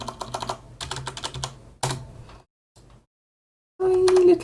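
Rapid bursts of clicking keystrokes on a computer keyboard come close and loud, broken by short pauses and a stretch of near silence, then a sustained hum joins a final flurry of typing.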